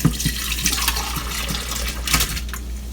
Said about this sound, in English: So I'm just going to pour these into my blender.